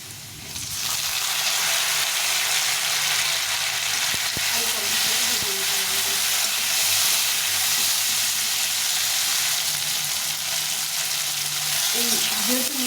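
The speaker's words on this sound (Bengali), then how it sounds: "এই আলুটাকে ভালো করে ভেজে নিয়েছি লাল লাল করে এখন এই টমেটোটা দিয়ে দেবো" Fried potatoes sizzle loudly in a pan, a steady broadband hiss running throughout after tomato is added, with faint stirring clinks partway through.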